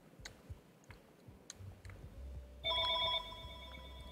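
A telephone rings in the video game Kitty Plays Murder, a bright electronic ring that starts partway through and holds steadily to the end, heard over faint clicks and low rumble with no talk.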